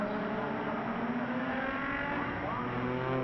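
SpecZ race cars accelerating off the start at Mid-Ohio, a loud steady pack of engines roaring and climbing in pitch, with a commentator talking over them.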